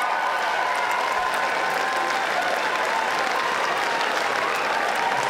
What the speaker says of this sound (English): give them a huge, massive cheer